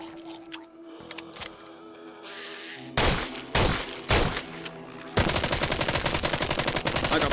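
Gunfire in the zombie shooter Arizona Sunshine: a few loud single shots, then a fast, sustained automatic burst that runs to the end, with no talking over it.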